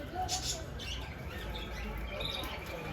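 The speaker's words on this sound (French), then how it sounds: "Donc là, on est au marché des oiseaux sur l'île de la Cité." Busy chorus of caged birds at the bird market on the Île de la Cité in Paris, with overlapping high chirps and tweets over a steady crowd hubbub throughout.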